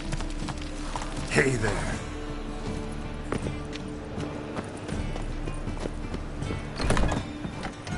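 Geralt's horse Roach runs in The Witcher 3. A steady clip-clop of hoofbeats goes on throughout with a brief neigh-like swell, and someone speaks briefly over it.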